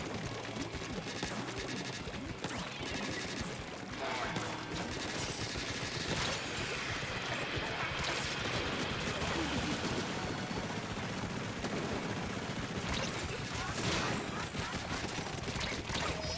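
Weapon fire in the video game Splatoon 3, including a .52 Gal and a crab tank, with a dense, continuous barrage of rapid shots and splats mixed with game music and effects, loud throughout.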